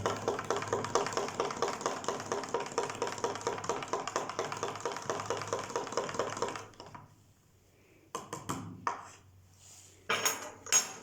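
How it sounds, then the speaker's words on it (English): A spoon stirs a fortified milkshake in a glass, giving a quick, steady run of close metallic clinks for several seconds, followed by a pause and a few scattered clanks. "After we've added that, again, we'll give it a quick stir."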